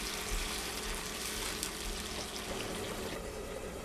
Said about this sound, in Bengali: এটার সাথে সামান্য একটু ঝোল দিয়ে দেওয়ার পালা। ঝোল দিয়ে নেড়ে চেড়ে আমি এটাকে ঢেকে দেব আরও 7-8 মিনিটের জন্য।